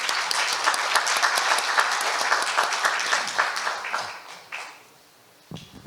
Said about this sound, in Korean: 강종수 고문께 박수로 환영해 주시기 바랍니다